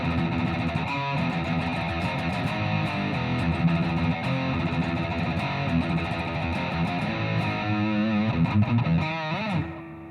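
Electric guitar played through a Spark 40 amp with a heavy distortion tone suited to metal or rock, thick sustained chords and riffs ringing steadily and loud, closing with a brief drop at the end.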